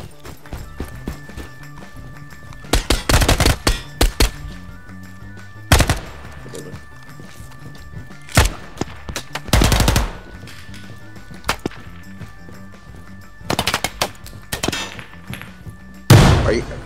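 Gunfire in the tactical shooter game Ground Branch: several loud, sharp bursts of rapid automatic fire spread across the stretch, separated by quieter gaps with a faint steady background.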